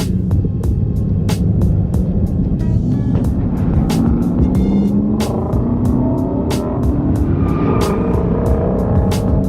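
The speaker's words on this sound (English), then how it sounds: "We got guys doing burnouts, guys drifting out of here, good old power sliding." Loud engines of lifted trucks roar and rev nearby at a truck meet in Atlanta, with rising tones and rapid sharp crackles as they do burnouts and power slides.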